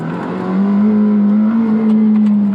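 A McLaren Senna drives a timed lap on a track, its engine a loud, sustained drone that rises slightly in pitch as it accelerates past, heard close and alone without talk.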